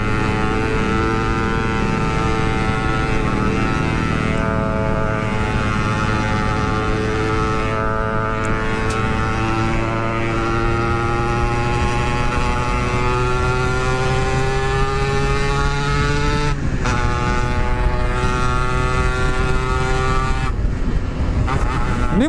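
A Yamaha RX King two-stroke motorcycle being ridden hard, its engine droning loud and close with rising and falling revs throughout, a shift dip near the middle, over steady road and wind noise.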